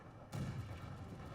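Cannon artillery in the Total War: Fall of the Samurai video game gives a single low, muffled boom that decays into a rumbling tail, somewhat distant and faint.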